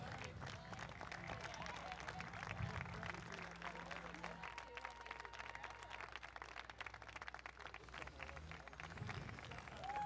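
Applause from an outdoor street crowd at the City of Torrance Armed Forces Day Parade, a continuous wash of clapping and crowd noise over low vehicle rumble, with voices mixed in.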